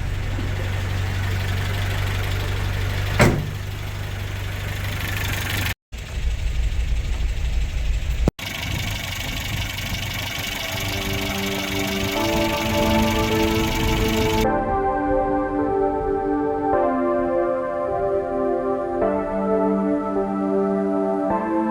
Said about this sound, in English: let's fire it up and see if it leaks anywhere